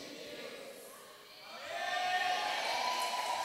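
An audience at a faith gathering breaks into applause and cheering, a swelling wash of clapping that rises midway and holds steady, with a voice speaking over it.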